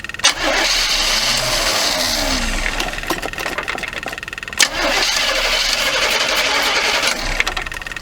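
A 1979 Chevy G20 van cranks over on its first start attempt, the starter grinding loudly and continuously with a brief break in the middle, close up and without speech.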